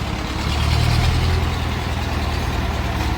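A Ford sugarcane loader truck's engine runs steadily and loud, with a deep, even rumble and no voices.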